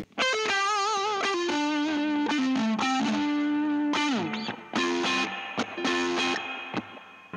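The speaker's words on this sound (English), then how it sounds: "Here's a little bit of reverb on that vaporized tone." A late 1970s or early 1980s Fernandes Stratocaster electric guitar plays a short run of notes with a spacious reverb tail, some notes bending and sliding, ending in sparse plucks.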